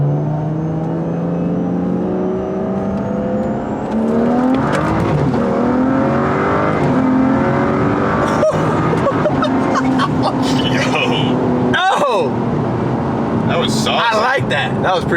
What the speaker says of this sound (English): Let's give it a second gear pull.